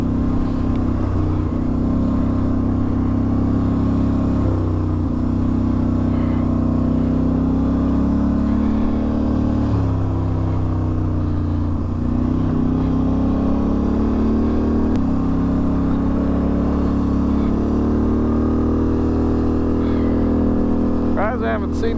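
ATV engine with a loud exhaust, ridden along an Arizona desert trail, drones steadily and close throughout with shifting pitch as it speeds up and slows, while a person talks over it.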